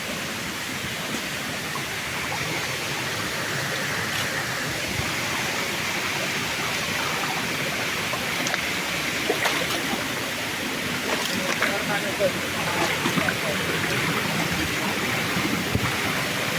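A Konkan waterfall roars as a constant broad rush of falling water, steady and moderately loud with no speech.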